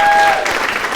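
Loud applause from an audience at a State of the City civic event, a brief burst of many hands clapping close by, starting strong and tapering slightly as it continues.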